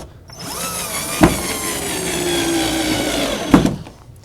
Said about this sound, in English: Hopefully the screw's going in the right angle